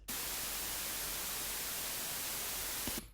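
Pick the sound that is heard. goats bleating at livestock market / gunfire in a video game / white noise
white noise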